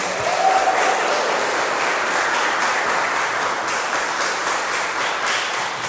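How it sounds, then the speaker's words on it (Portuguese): Applause from a church congregation after a scripture reading, a dense steady wash of many hands clapping throughout, fairly loud and without talk. "Vamos dar uma salva de palmas para a palavra do Senhor?"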